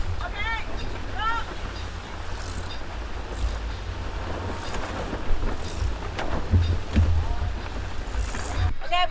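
A sailboat runs through a storm in strong wind, with gusty roaring wind buffeting the microphone and water rushing against the hull; voices talk briefly over the din.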